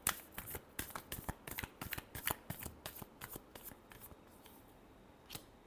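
Tarot cards being shuffled for a Capricorn reading, giving a fast run of crisp riffling flicks and slaps in quick bursts, fairly close and alone with no talk.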